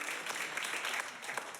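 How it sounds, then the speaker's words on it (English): Live audience at an improv comedy show breaks into sustained applause, a dense steady wash of clapping at moderate volume with a few brief voices mixed in. "Give yourself a big round of applause for coming out to live."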